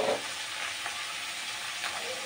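Chickpeas frying in hot oil, a steady broadband sizzle with occasional stirring scrapes, close and moderately loud, alone without talk.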